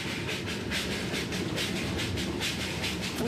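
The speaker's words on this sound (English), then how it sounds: "It comes up once a day and everyone seems pleased to see it." A steam train on a mountain railway in India rolls along with a continuous rumble and rhythmic clickety-clack of wheels over rail joints, heard steadily from close by without any voices.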